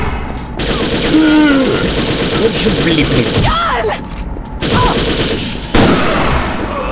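Rapid video game gunfire crackles over continuous background noise, with someone talking over the shots.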